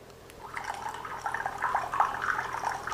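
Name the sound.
water being poured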